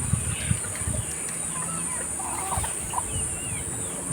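Hens clucking on a farm raised on rice bran and corn feed, short clucks and soft calls scattered close by over a steady high background hum, with occasional bumps and a little faint talk.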